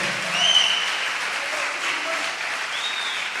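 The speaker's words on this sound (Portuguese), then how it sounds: "Aplauda o Senhor se você crê e expressa a sua fé." A church congregation applauds during a worship service, a steady wash of clapping at moderate distance with faint tonal sounds above it.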